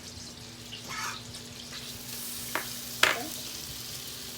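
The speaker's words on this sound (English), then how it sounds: "we're going to take that garlic butter I prepared and we're going to put it in the pan" Garlic butter and broccoli sizzle in a pan with a soft, continuous crackle, broken by a few sharp scraping stirs near the end; a voice briefly speaks once.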